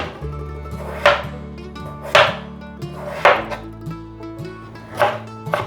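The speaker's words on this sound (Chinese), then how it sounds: "先把马铃薯对半切，切一半了之后，这样子站着比较稳，比较好切" A knife cutting a peeled potato on a cutting board: four or five distinct sharp chops at roughly one-second intervals, close and clear over a quiet background.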